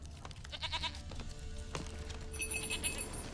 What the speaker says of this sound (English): Hoofed and horned. Should have known it would be stubborn.